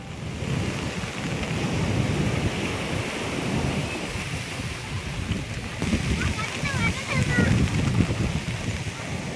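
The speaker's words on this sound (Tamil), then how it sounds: "புயல் சின்னம் காரணமாக சீற்றத்துடன் காணப்படும் கடல் அலைகள்" Rough sea waves pound the shore at Tharangambadi during a cyclone, a loud, continuous roar of surf mixed with heavy wind buffeting the microphone.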